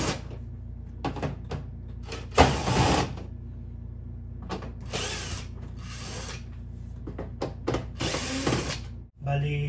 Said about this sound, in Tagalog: tatanggalin natin yung mga screw dito para ma-access natin yung loob